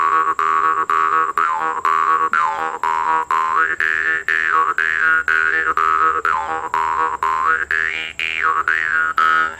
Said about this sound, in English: With the jaw harp, and you could do something like